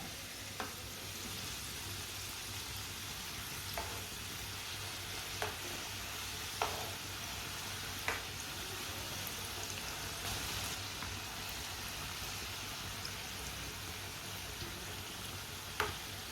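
Ramadan rolls fry in a pan with a steady, dense sizzle throughout, broken by a few soft clicks of stirring or turning.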